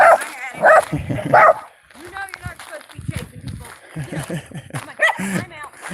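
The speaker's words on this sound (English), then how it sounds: "Those dogs chase everyone who walks up the main road." Dogs bark in short loud bursts early on, then people talk close by with a few more yips under the speech, outdoors on a desert road at Slab City.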